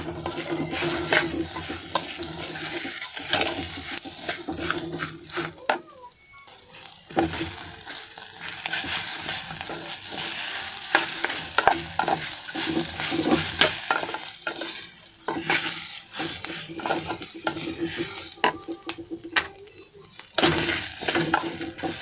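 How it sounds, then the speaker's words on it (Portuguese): Rice sautéing in a pot on a farm kitchen stove, with continuous crackling sizzle and frequent scraping stirs against the pot, close and steady throughout. "Tô eu aqui refogando um arrozinho."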